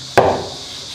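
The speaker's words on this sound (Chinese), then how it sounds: "切片。" A single sharp chop of a knife through pork on a cutting board, one close, solid impact followed by quiet.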